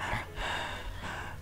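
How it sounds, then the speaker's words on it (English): A man breathes heavily into a microphone, giving a few loud, close, rasping breaths in a rough rhythm, with no speech. "all I can hear is him breathing heavily in my ear"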